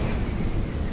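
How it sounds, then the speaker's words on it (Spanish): Heavy rain pours down steadily onto a road during a storm, a dense close wash of noise with a low rumble of thunder underneath, and no voices. "una lluvia que sin previo aviso empezó a bombardear la carretera junto con unos rayos que amenazaban el horizonte"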